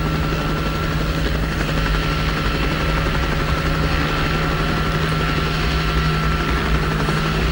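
A helicopter hovering over a cricket ground gives a loud, constant rotor and engine drone that is even and unbroken throughout, with no talk over it.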